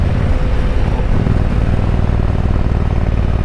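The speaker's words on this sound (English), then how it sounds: "when I back off, there's really good engine compression, and it almost sounds like a jake brake on a truck" A Harley-Davidson Road King with true dual exhaust and 4.5-inch cans rumbles loudly and close under engine braking, a dense, continuous low throb with a rapid pulsing crackle throughout, no voices over it.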